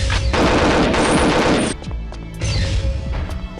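An experimental gun fires a rapid, loud close-up burst in a video game, followed by scattered crashes and impacts.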